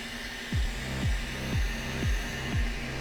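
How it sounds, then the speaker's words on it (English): Steady roaring hiss of a glassworking torch flame as a hollow glass jar piece is held in it and rotated, with rhythmic swells about every half second, close and continuous with no talking. "And just hold it in the flame and rotate."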